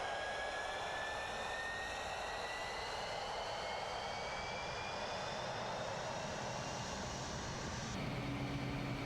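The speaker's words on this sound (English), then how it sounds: "Right, so the engine has started." The Dassault Mirage 2000C jet engine in Microsoft Flight Simulator runs at a steady loud roar with a rising high whine layered on top, continuous and unbroken, with no voices.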